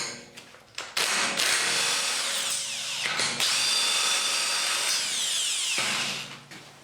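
A Milwaukee HD18 HIW 18V cordless impact wrench hammers on an M10 bolt, loud and close, in two long rattling bursts with a brief pause between and a short start beforehand.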